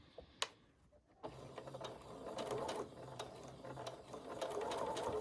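A sewing machine stitches a quilt block seam, starting after a second of quiet and then running in a steady, close mechanical whirr with rhythmic needle ticks, quiet and alone.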